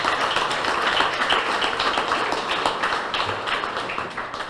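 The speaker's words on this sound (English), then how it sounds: "let's just give them another round of applause" Audience applause at a ribbon cutting ceremony for The Grand: a dense, steady wash of many hands clapping together, loud and close, sustained throughout with no speech over it.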